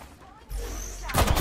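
Gunfire in the Apex Legends video game bursts out in a loud, close volley that swells over the final moments of a short stretch of game sound.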